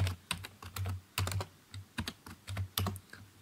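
Typing on a computer keyboard while writing Python code, a rapid irregular run of close, crisp key clicks with soft thumps, in bursts with short pauses and no speech.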